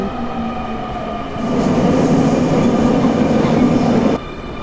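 Steady rumble of a moving train in Nagoya, Japan, heard from inside a car, growing louder and fuller partway through, then dropping back near the end.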